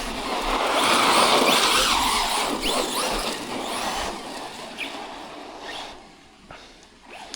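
A Traxxas Rustler 4x4 RC car on Gravix tyres buzzes around on tarmac, its electric whine and tyre scrub loud at first, then fading slightly as it moves farther off.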